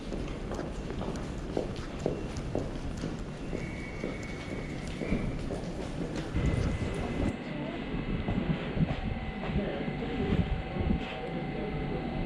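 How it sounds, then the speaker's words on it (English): A non-stopping train runs through a suburban South Western Railway station between Wimbledon and Clapham Junction, a steady rumble and rattle of wheels building under platform noise, with a sustained tone entering partway through. "The train now approaching platform 6 doesn't stop here."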